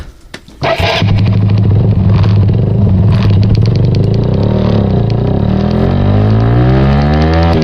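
Motorcycle engine roaring loud and close after a brief quiet start, holding a steady drone with its pitch gradually shifting as it rides.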